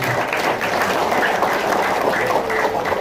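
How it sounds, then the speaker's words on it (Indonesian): Audience at a business training session breaking into applause, a thick continuous roar of clapping at fairly high level, with murmured voices mixed in. "Tepuk tangan dong buat kita."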